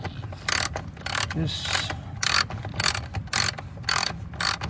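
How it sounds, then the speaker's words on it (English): A screwdriver drives screws back into a fitting in close, loud bursts of ratcheting clicks, each lasting about half a second, separated by short pauses, with a brief spoken word in between. "So right now I'm just putting the screws back in."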